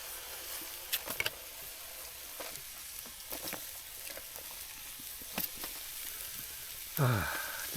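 Steak frying in a pan at a night-time wild camp in South Wales, a steady broad sizzle running throughout with a few sharper pops and a louder surge of spitting near the end, no voices.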